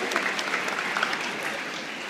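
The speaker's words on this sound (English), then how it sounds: "Let's get a big round of applause for Ty, the California administrators, Tracy and Alicia" Audience at an aquarium aquatic show clapping in a quick, steady burst of many hands, moderately close and continuous for a couple of seconds.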